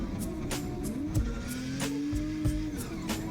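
A Nissan S15 drift car, engine droning at high revs with wavering pitch and tire noise, the sound thin and slightly distant as if played back.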